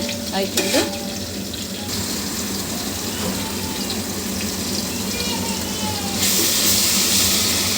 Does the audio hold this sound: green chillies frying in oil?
yes